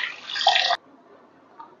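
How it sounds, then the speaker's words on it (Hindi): Bombil fish (Bombay duck) being washed in water for an East Indian fry: a brief, close splash and slosh that stops abruptly, followed by near silence. "तो इसे 3 से 4 पानी में अच्छे से हम धो लेंगे।"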